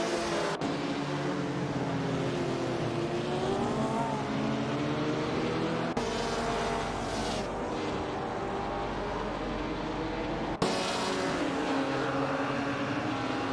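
1950s sports cars race in a video game, with steady engine drone that rises and falls as gears shift, running continuously with a couple of abrupt cuts and no talking.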